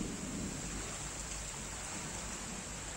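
Heavy rain falling in Hyderabad, a dense steady hiss of downpour on surfaces with a low rumbling undertone, continuous throughout with no voices.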